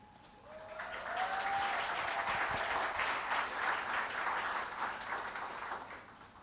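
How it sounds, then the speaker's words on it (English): Applause at a closing ceremony for a certificate presentation: a crowd claps steadily and fairly softly for several seconds, rising after a brief start and tapering slightly toward the end, with no talk over it. "a round of applause to Janelle."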